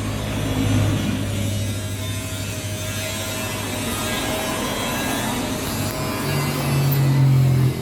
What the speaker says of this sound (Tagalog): umiingay sa loob ng makina ha